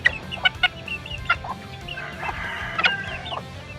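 A bantam chicken clucking close by, in several short sharp bursts with brief pauses, then a longer stretch of softer murmuring clucks and a final few louder notes.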